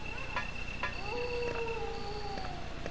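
Zombie dogs howling in Resident Evil: Director's Cut, long wavering howls that overlap over a steady game background hum, with a few sharp clicks, moderately loud and without talk.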